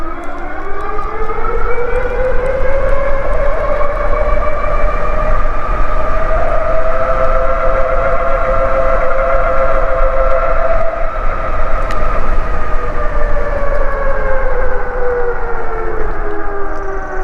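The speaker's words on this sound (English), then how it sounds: "the acceleration is just so much fun when you twist one throttle, smash the other, and just" A dual-motor, all-wheel-drive Radrover e-bike takes off hard on both throttles, its loud, close motor whine sweeping up in pitch, holding high, then easing back down over about seventeen seconds.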